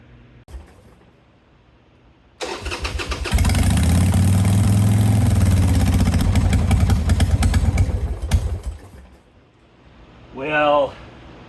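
A 1960 GMC truck engine cranks and catches, then runs loudly with an uneven, rough idle for several seconds before cutting out; a voice speaks briefly afterward.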